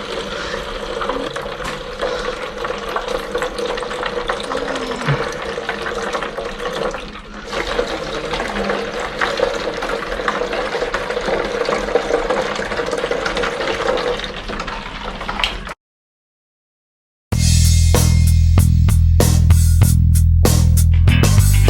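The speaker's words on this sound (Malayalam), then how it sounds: "നമുക്കിനി ഇപ്പോൾ ഇതിനകത്തേക്ക് വെള്ളം ഒഴിക്കാം. അപ്പോൾ വെള്ളം ഒഴിക്കുന്നത് കാണിച്ചു തരാം." Water poured into a DIY plastic-bottle aquarium makes a steady, continuous splashing rush for several seconds, then stops; after a brief silence a louder, buzzing mechanical sound starts up.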